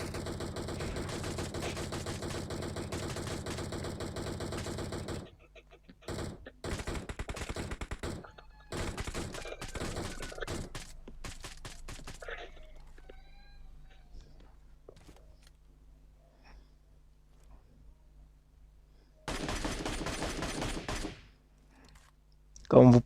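MK12 sniper rifle shots fire in a video game, sharp cracks in rapid bursts with pauses between volleys, loud and close, ending with another dense cluster of shots.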